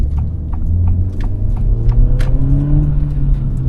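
A manual Acura Integra engine accelerates in first gear, a loud close rumbling rise in pitch with a low steady drone beneath and scattered knocks and clicks on top.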